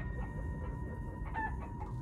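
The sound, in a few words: chickens clucking in the video game Minecraft Story Mode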